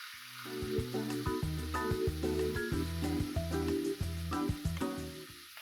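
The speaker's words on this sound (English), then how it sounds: "You want to hear that nice sizzle." Steady, crackling sizzle of steak frying in hot oil, close and fairly loud, with no voices.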